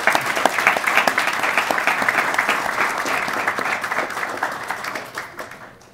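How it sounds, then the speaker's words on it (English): Applause for the panelists at a youth forum on mental healthcare, a dense crowd clapping throughout with crisp individual claps, tapering off toward the end. "round of applause for our panelists"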